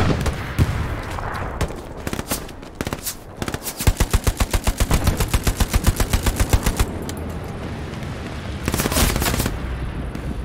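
A PPSh submachine gun fires in Hell Let Loose in long rapid bursts of sharp reports, with scattered single shots and another burst near the end amid battlefield noise.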